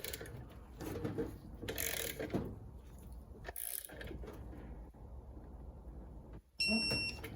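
A ratchet wrench clicks as bolts are torqued on a Ford Mustang TR3650 manual transmission, bursts of close ratcheting with brief pauses and a sharp metallic tone near the end.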